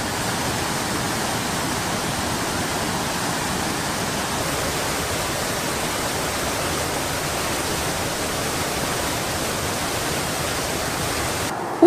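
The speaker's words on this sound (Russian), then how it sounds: "безумно красивыми водопадами, прямо в нескольких метрах от нас" Waterfalls a few meters away in open nature, a loud, steady, broadband roar of rushing water that continues unbroken throughout, with no voices.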